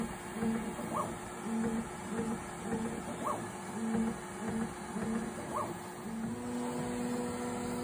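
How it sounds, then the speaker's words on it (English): Bambu Lab P1S 3D printer running its automatic bed leveling, giving a steady mechanical whir with stepper motor tones and short rising chirps that repeat every few seconds. "The printer's auto calibrating its Z offset, and now it'll begin a complete bed leveling."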